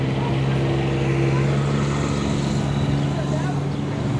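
A 1953 W4 tractor rolling past in a parade, a steady low engine drone under a person talking.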